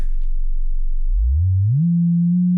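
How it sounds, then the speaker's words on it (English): A clean sine wave from a Schlappi Engineering 3-body oscillator, a pure steady tone that glides upward in pitch, then holds level, heard alone. "here's a nice clean sine wave from the 3-body"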